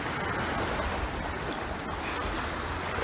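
Sea water washing at the shoreline as feet paddle through it, a constant broad rushing wash of surf close by with no voices.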